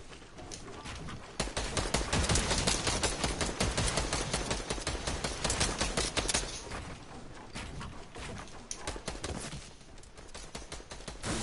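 Sustained, dense gunfire in a video game: a rapid stream of overlapping shots, loud and continuous for several seconds after a quieter opening, then easing before picking up again at the end.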